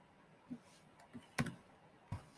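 Four or five sparse, quiet clicks of typing on a computer keyboard, separate keystrokes spaced irregularly in a quiet room.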